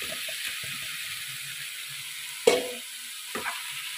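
Cauliflower tipped into frying masala sizzles steadily, with a sharp clatter of stirring midway and a smaller scrape near the end, close and alone.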